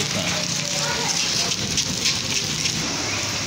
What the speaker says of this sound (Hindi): इतनी ही तेज़ बारिश और हवा तेज़ चल रही है